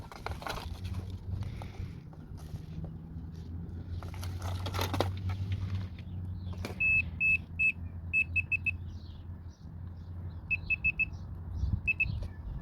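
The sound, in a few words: multimeter continuity test beep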